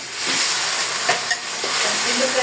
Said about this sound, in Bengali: শাকটাকে আমি একটু ভেজে দিব